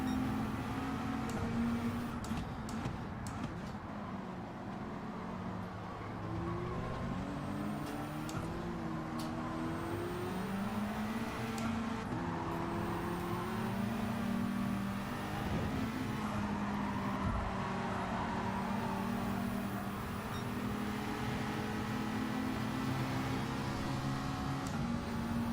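Race car engines, including a Ferrari and a McLaren, drone continuously in a Gran Turismo 7 online daily race, a dense layered hum of several cars with shifting pitch and occasional faint clicks, with no talk.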